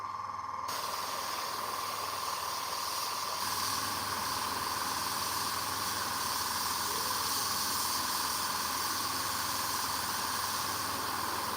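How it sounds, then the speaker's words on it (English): Airbrush spraying paint onto a Warhammer miniature, a steady continuous hiss with a faint tonal hum running underneath, unbroken and fairly close for the whole stretch. "I don't want the spray to push the paint, the wet paint,"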